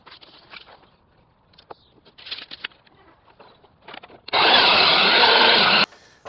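A power saw tipped to 45 degrees rips through an oak hip rafter for a gazebo roof frame: a loud, close, steady burst of about a second and a half, preceded by quieter scattered knocks and handling noises.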